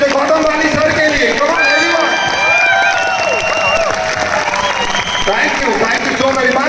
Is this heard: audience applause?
yes